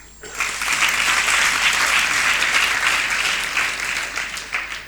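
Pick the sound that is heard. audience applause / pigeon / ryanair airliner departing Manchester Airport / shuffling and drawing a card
audience applause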